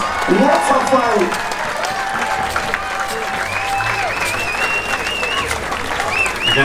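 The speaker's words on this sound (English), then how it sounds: "Come on, big cheer for both America and England!" Outdoor crowd cheering and applauding after a medieval knight team fight between America and England at Scone Palace, Scotland: steady, loud clapping and shouting throughout, with a voice calling out over it.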